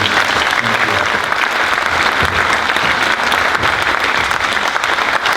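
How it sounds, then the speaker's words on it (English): Loud, dense applause fills a concert hall for the flute section of a band, a continuous wash of many hands clapping without pause and no voices. "Give them a round of applause."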